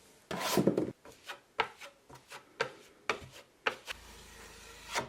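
A drywall knife scrapes and smooths a first coat of joint compound over a drywall joint. It makes one longer rasping stroke, followed by a series of short, quiet scraping pulls, with no voices.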